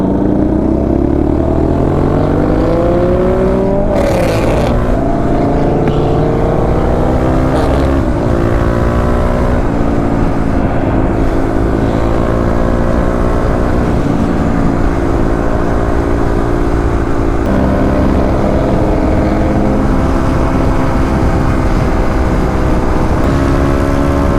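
A Kawasaki KLX351 motorcycle accelerates onto a highway on a night ride. The engine roars loud and close, its pitch climbing and dropping through several gear changes over steady road and wind rumble.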